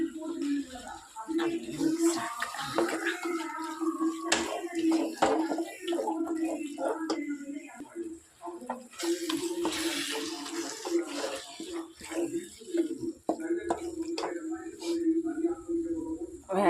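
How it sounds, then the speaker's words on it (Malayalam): Water is poured into a pan of squid roast with garam masala to cook it, a soft continuous trickle and splash running for a while with small clinks. "വേവാൻ ആവശ്യമായ വെള്ളം"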